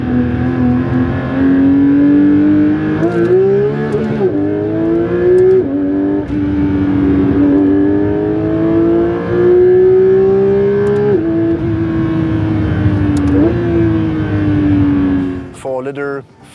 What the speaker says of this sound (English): The Porsche Flat 6, beautiful sound.